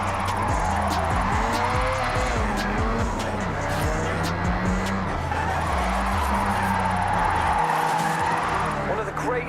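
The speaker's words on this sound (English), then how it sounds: "If you don't drift with style, it's just skidding" Car drifting in the video game Forza Horizon, with an engine revving up and down and tires squealing through repeated slides, loud and close throughout, with a voice talking over it.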